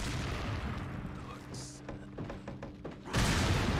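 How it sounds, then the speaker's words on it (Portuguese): A deep grenade blast booms suddenly near the end of the clip in Resident Evil 4 Separate Ways, loud and low, following a stretch of quieter in-game sounds and faint clicks. "Ah, jogou uma granada pra poder matar todo mundo."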